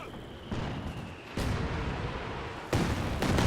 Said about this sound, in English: once again, artillery targeting this forward base